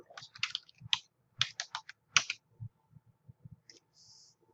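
Keys on a computer keyboard clatter in short bursts of quick clicks with pauses between them, close and fairly quiet in an otherwise silent room.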